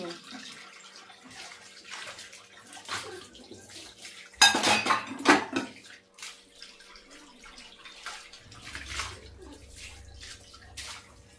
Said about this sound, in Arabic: الواحد بيستمتع هو عم بيجلي